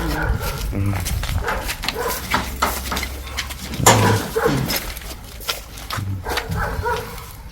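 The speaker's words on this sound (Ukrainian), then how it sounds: "А ось собака." A dog barks and whimpers in a shell-damaged yard in Kherson after a night of bombardment, with short yelps breaking through nearby voices talking and faint clinking in the background.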